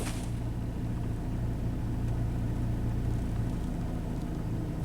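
Dodge Neon engine with a no-shift, limp-home transmission fault, running after being put in drive: a steady, fairly loud low rumble that holds without change for about five seconds.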